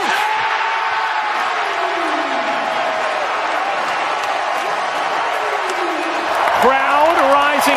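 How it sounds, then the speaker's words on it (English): A basketball arena crowd at a Toronto Raptors versus Wizards playoff game cheering and roaring in a loud, sustained swell, with an announcer's excited voice rising over it near the end. "Crowd rising to its feet."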